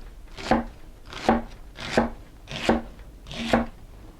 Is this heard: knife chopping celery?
yes